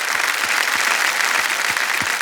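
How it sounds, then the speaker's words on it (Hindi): Studio audience at a TV quiz show, Kaun Banega Crorepati, bursts into steady, dense applause, loud and continuous throughout with no talk over it. "एक बार फिर तालियां बज जाए इनके लिए।"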